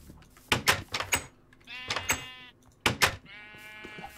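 Several sheep bleat in a Minecraft world, short wavering calls repeated in quick bursts, near and fairly loud, with game clicks and thuds between them.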